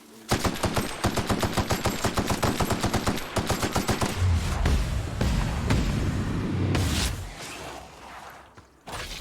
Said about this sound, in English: I'm shooting the individual flies with this thing